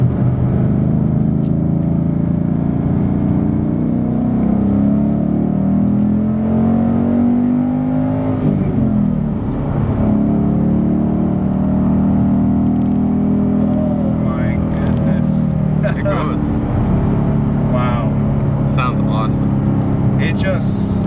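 2016 Ford Mustang GT Performance Pack with its Coyote V8 revving while driving: a deep engine drone climbs and falls in pitch through the revs, loud and close in the cabin, with someone talking over it.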